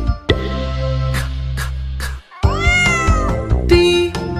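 A cat in a children's English phonics lesson meows several times up close and loudly, with drawn-out, wavering cries that rise and fall in pitch.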